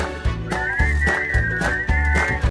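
Whistled melody of a tune, a clear sustained pitched line carried over a steady rhythmic musical backing with regular beats, loud and close throughout.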